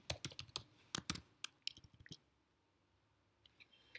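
Quick, close clicks of typing on a computer keyboard come in a burst of keystrokes, pause into near silence, then resume with a few final taps.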